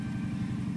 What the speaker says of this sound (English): You can hear the exhaust pipe up.